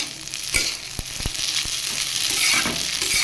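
Sago pearls fry with potato and tomato in a pan, a constant close sizzle with a few sharp ticks and soft stirring knocks, steady and fairly loud, no voices.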